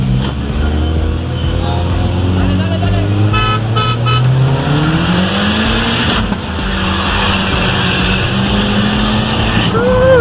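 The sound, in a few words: car horn honk and engine of VW Jetta MK3 race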